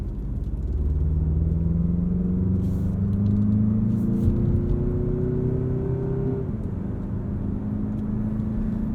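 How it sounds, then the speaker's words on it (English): A 2023 Mazda CX-50 towing a 3,500 lb trailer revs up, its engine note climbing steadily then easing off, a low rumbling whir heard from inside the cabin, with no voices. "allowing us to rev the engine out just a little bit more for extra power"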